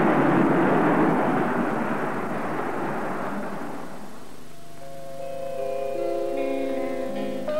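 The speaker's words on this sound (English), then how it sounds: "Concorde backs away into the darkness" A Concorde airliner pulls away at night at Bahrain airport. Its loud, broad jet roar fills the first half, then fades and gives way to a quieter mix of steady whining tones.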